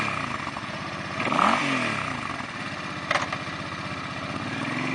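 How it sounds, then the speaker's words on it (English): A used 2007 Suzuki C50 Boulevard V-twin cruiser motorcycle engine idles with a steady, loping rumble and a brief throttle blip near the start, close and loud, with no talking. "Fire it up for you so you can see how she runs."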